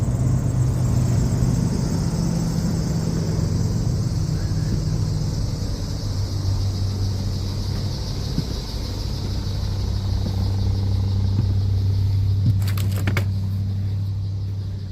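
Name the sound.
1987 Winnebago motorhome engine running after cold start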